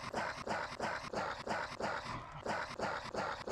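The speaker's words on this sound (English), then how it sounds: "Sounds like a dog choking on a bone." A dog in the game Terraria giving a repeated choking, whimpering yip, a rhythmic series of short strained bursts roughly every third of a second, steady and moderately loud with no talk.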